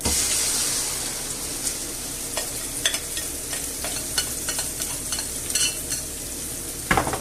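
Omelette mixture hits hot oil in a frying pan on a hob set to 7 and sizzles steadily, with occasional scrapes and clicks of utensils against the pan, up close and with no talking.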